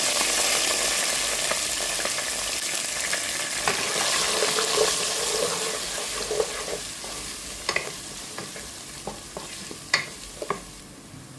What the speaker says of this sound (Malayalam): കടുകും ജീരകവും ഒക്കെ പൊട്ടി വരുമ്പോൾ